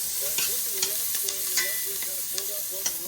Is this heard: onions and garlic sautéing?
yes